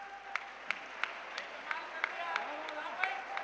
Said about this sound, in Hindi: हर व्यक्ति ईमानदारी से ताली बजा के बताना